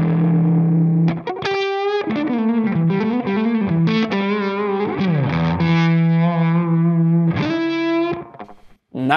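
Electric guitar recorded through Variable Z with a thick, sustained Big Muff-style fuzz tone, playing a loud, saturated melodic phrase with bending notes and held pitches, alone and close for about nine seconds.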